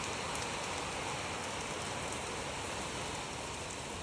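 Steady late-monsoon (Bhadon) rain pours down, a dense, even hiss of drops on surfaces with no pauses and no voices.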